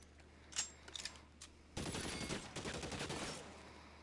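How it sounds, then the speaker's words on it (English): Machine gun fire in the VR detective game L.A. Noire: The VR Case Files, a few scattered shots at first, then a sustained rattling burst lasting a couple of seconds, moderately loud. "Oh, he's got a machine gun."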